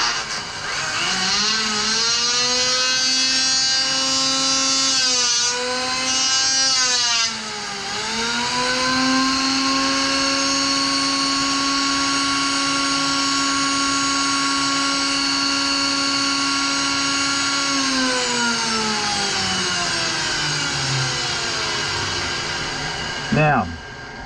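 An electric planer with a failed bearing revs up to a loud, steady motor whine, dips and surges briefly a few times, holds high, then spins down near the end, heard close and alone.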